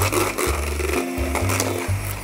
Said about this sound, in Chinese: 電動的打蛋器，其實你用手也可以，不過就即係懶啦。